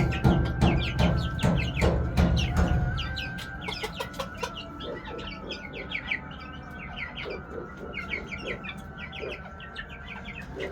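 Several chickens cluck and call in a coop over a steady background, with a busier burst of clucking at the start before settling into scattered, repeated clucks.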